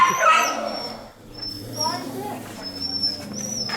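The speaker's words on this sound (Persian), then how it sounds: "اینم سگای زیاده اینجا که دعوا هم میکنن با هم دیگه" Several dogs barking, yipping and whimpering as they fight in an old-city street in Jodhpur, heard in uneven close bursts while someone talks over them.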